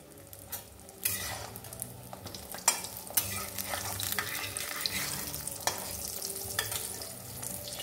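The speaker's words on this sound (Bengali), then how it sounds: "এই দেখো আমার ভাজা হয়ে গেছে" Close, bubbling oil crackles steadily as green pea kachoris deep-fry, with sharp pops and spits scattered throughout and occasional louder bursts.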